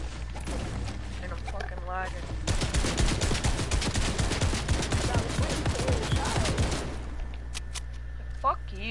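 Heavy purple-tier rifle fire in a shooter video game rattles out in a dense, rapid burst lasting several seconds, loud and continuous, with players talking around it.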